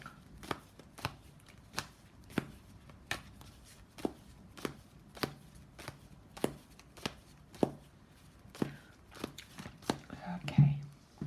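Tarot cards being shuffled by hand, a quiet series of about fifteen crisp riffling snaps at a steady rhythm, with soft whispered talk in between.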